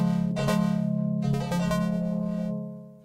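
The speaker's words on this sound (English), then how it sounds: "so we'll listen to the major chord in 19." A major chord in 19-EDO tuning on a synth, struck a few times and held, its tones ringing steadily and fading near the end, alone without talk.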